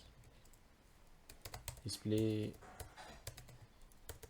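Rapid clicking keystrokes on a computer keyboard while someone codes HTML and CSS. Steady, close-up typing runs under a speaking voice.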